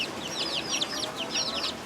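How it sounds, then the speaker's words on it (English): Young chickens of several different breeds, about three weeks old, kept in a pen, giving rapid high peeping cheeps in quick bursts up close over a low background hum. "These are chickens. Different breeds of chickens."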